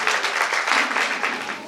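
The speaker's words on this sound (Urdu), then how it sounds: "آئے ہم زوردار تالیاں بجائیں۔" A church congregation claps loudly in a burst of dense, steady applause lasting under two seconds, close and full with no voices.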